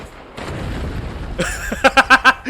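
A red barrel blows up in the video game Resident Evil Village: a rumbling blast followed by a quick run of sharp, loud pops, with no voices.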